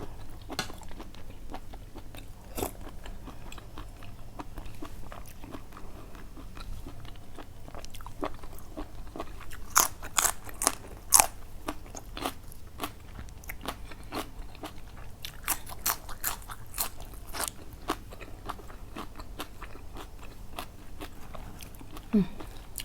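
Crunchy biting and chewing of spicy Thai-Lao squid salad, close and steady for the whole stretch, with sharp crisp crunches clustered in bursts and no talk over it.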